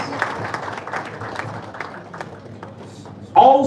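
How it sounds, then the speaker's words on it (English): Audience at an aviation event applauding a moderator as she walks to the podium, a scattered, moderate patter of clapping that thins out, then a louder burst near the end. "A round of applause for her as she comes."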